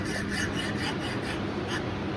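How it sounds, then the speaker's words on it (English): Hacksaw cutting a metal sample clamped in a bench vise, a quick series of rasping strokes in a steady back-and-forth rhythm, close and fairly faint. "we use a hacksaw to cut the samples"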